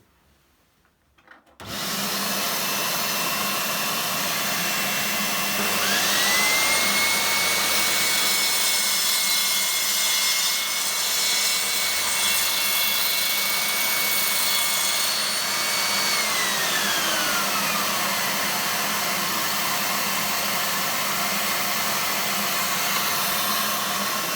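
A DeWalt DWS773 mitre saw starts up after a quiet moment and cuts with a shop vacuum running for extraction. A loud, steady motor roar and high whine hold for about twenty seconds, and the pitch shifts as the blade bites and then spins down.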